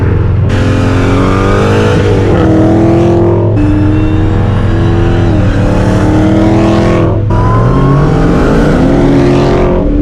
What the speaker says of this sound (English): the supercharger whine is out of control